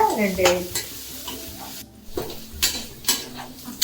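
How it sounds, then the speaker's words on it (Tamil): Chopped green chillies sautéed with onions in a pan for a mutton kola urundai kuzhambu, soft sizzling under several clanking stirs and scrapes of a ladle against the pan, with a brief pause midway. "இந்த சிறுவாக அரிஞ்சு வச்சுருக்கிற பச்சை மிளகாவை போட்டு நல்லா வதக்கிடுவோங்க"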